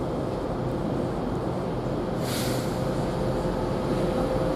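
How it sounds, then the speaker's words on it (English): A TransPennine Express Class 185 diesel unit, 185-102, rolls through Doncaster station with a steady low rumble and rail hiss. A brief airy swell rises about halfway through. "we've got another service here coming through here, which is also a TransPennine Express service"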